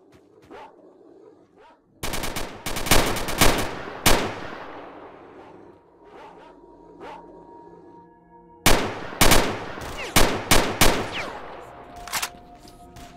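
Gunfire and dogs in the video game S.T.A.L.K.E.R.: Shadow of Chernobyl: loud bursts of rapid automatic shots come in two clusters with quieter gaps between, echoing tails, and occasional barks under the shooting.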